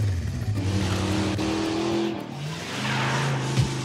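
In a Motu Patlu cartoon, a motorbike engine revs and drones in shifting tones as it is ridden, ending with a brief skid, loud and close with no voices.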